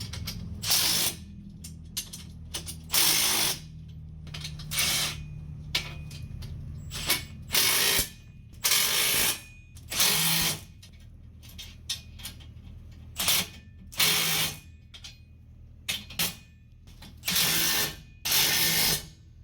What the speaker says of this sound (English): He's getting ready to bolt this whole setup together.